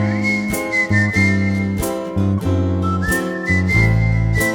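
Someone whistles a bright melody over lively band accompaniment of a Cologne song, the whistled line gliding between held notes above steady rhythmic backing.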